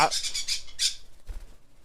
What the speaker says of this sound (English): My bird decided to freak out.